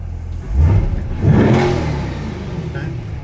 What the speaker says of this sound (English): So city, you can give a little blip and then kick it up to Sport Plus.